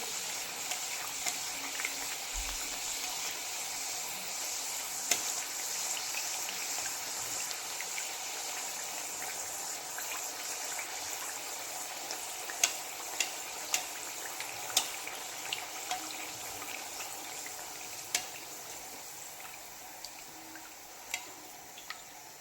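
Pumpkin puris deep frying in hot oil: a faint, steady hiss and sizzle with scattered small pops and crackles, constant throughout and without speech.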